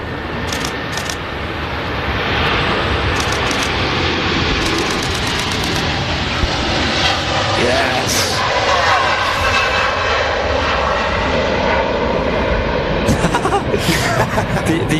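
A Virgin A330 airliner rolls for takeoff at Manchester Airport, its jet engines building into a loud, continuous roar heard from a distance outdoors, with a few brief knocks and a voice talking over it.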